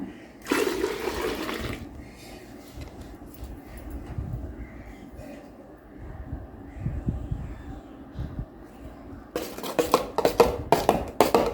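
Two litres of water pour steadily into a container while making dishwashing liquid, with clattering bursts of plastic or dishware at the start and end.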